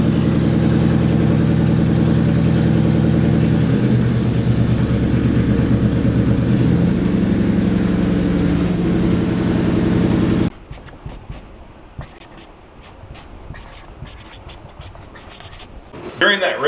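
A race car engine idles with a loud, steady harmonic drone for about ten seconds, then the fuel is cut and the engine abruptly dies, leaving quieter ticking and faint clatter.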